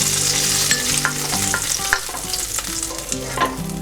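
Potatoes and prawns fry in hot oil for a mixed vegetable dish, a steady close sizzle broken by stirring scrapes and clinks, with no voices.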